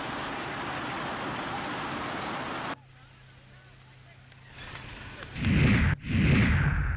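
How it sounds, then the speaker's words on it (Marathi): A violent hailstorm with heavy rain in Sillod taluka, Maharashtra, gives a dense, loud roar of falling ice and water for the first few seconds. It then cuts to a quieter stretch with a voice, followed by strong gusty bursts. "सिल्लोड तालुक्यामध्ये आपण पाहतोय तुफान गारपीट झालेली आहे"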